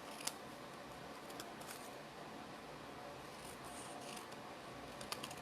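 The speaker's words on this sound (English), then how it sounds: "I'm just gonna give this a quick little trim. I'm just using my scissors." Quiet, soft snips of scissors cutting paper occur at scattered moments over low, steady background hiss.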